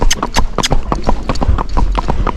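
Hoofbeats of a gaited Kentucky Mountain Horse moving out at a quick, even gait, ringing as a steady run of close, sharp clip-clop strikes throughout.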